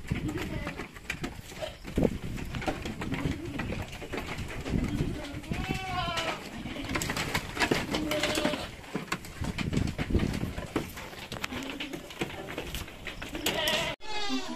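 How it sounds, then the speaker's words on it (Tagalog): Several purebred Anglo-Nubian goats, including newborn kids, bleat at intervals, some calls overlapping, amid a busy outdoor background with bird cooing and occasional voices. "Ito yung mga bagong anak na kambing."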